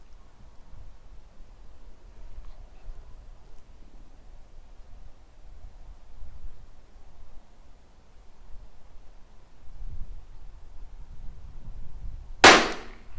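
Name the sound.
Tikka T1x .22 LR rimfire rifle shots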